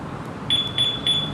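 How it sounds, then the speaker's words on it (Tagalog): Two-way car alarm locator sounding from a parked vehicle: a series of four short, high-pitched electronic beeps in steady rhythm, clear and fairly near over light background noise. "Yun, locator nya yun."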